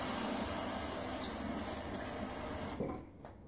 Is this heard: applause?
no